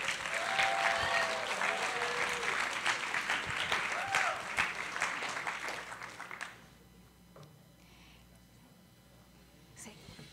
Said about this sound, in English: I just would like for us to applaud them as well.